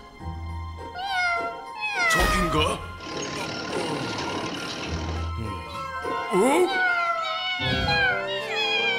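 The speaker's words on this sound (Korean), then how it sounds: "아기 고양이 울음소리였어?" Kittens meow in the animated children's bus cartoon Tayo the Little Bus, a series of high, wavering cries that come and go under excited voices of characters talking.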